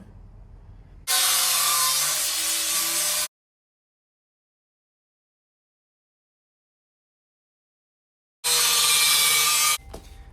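A worn cutting wheel grinds through a sheet metal patch in two bursts of harsh, bright, close rasping, each a couple of seconds long, separated by a long silence.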